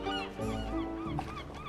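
A human voice imitates a parrot's squawks in a piratical manner, giving a few harsh, nasal, honking calls in quick succession, close and fairly loud.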